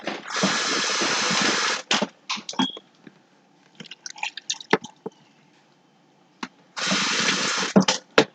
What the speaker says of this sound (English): Add a little bit of water so it can blend.